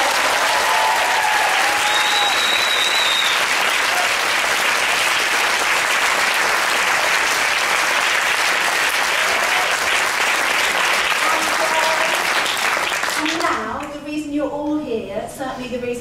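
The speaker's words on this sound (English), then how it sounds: "give yourselves a round of applause for being a lovely audience for me" A comedy-evening audience gives a long, loud round of applause for a performer, with steady dense clapping and some cheering for about thirteen seconds before it stops abruptly and a voice begins speaking.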